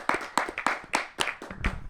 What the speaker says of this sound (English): Clap it up and make some noise for the one and only Larussell.